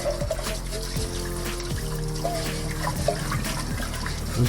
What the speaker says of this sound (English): I'm going to wash up the pan